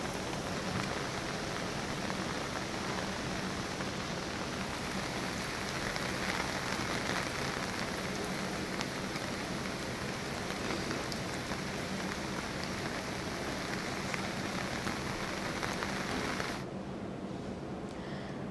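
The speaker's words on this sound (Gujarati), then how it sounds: "સવારથી જ ભારે વરસાદ વરસી રહ્યો છે" Heavy rain with strong wind pours steadily and densely on surfaces in Keshod, Junagadh, Gujarat, a continuous loud hiss that holds without pause before the high end thins near the close.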